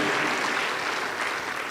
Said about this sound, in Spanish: Más alegre las palmas para Cristo Jesús.